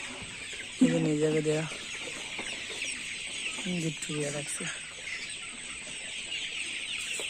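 Hens cluck close by on a poultry farm, with a few loud bursts of squawking near the start and again midway, among steady background calls while a person speaks.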